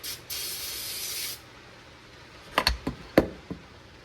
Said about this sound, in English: get the brake clean right in that cut